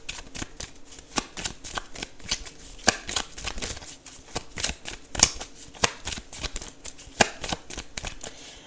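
A deck of tarot cards is shuffled up close in a steady run of crisp riffling slaps and flutters, with sharp card snaps scattered throughout and no talking.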